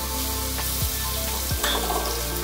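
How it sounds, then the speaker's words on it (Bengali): Spice paste and fried onion sizzle in a pan for moong dal cooked with water lily stems, giving a continuous close frying hiss with a couple of brief scraping strokes partway through. "এই পেঁয়াজটা ভাজা হয়ে গেছে। এরপর এর মধ্যে দেবো আমি যে মশলাটা পেস্ট করে রেখেছিলাম"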